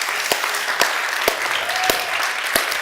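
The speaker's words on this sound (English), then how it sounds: "Can we give them a round of applause?" A church congregation applauds home team members with a burst of clapping, individual sharp claps standing out at a fairly even rhythm against a dense background of hands, fairly loud and close.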